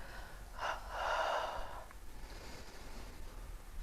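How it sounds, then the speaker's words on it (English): A single slow, deep exhale during a breathing exercise, a soft airy rush swelling and fading close to the microphone in a quiet room. "And then breathe out"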